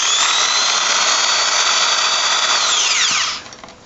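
A 2mm drill bit boring through a float post casting, a loud steady high-pitched whine that holds for about three seconds, then drops away as the drill spins down.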